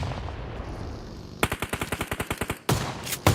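Rapid automatic gunfire in PUBG Mobile during a competitive esports match: a burst of about a dozen evenly spaced loud shots, a brief pause, then another sharp volley, with no talk over it.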